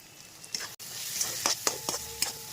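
Prawns in masala with curry leaves sautéing in a pan, a soft steady sizzle broken by several sharp scraping stirs, close and fairly quiet with no talking.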